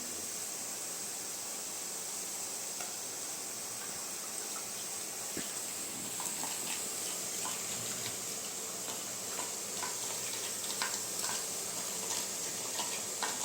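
Boondi batter droplets frying in a pan of hot oil for a Diwali boondi laddu, giving a steady close-up sizzle with scattered crackling pops that grow busier toward the end, no voices.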